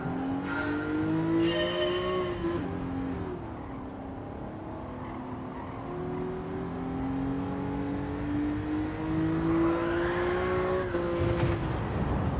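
A rear-wheel-drive car in Gran Turismo 7 slides sideways, its engine droning and wavering in pitch as revs swell and dip, with a faint tire squeal near the end.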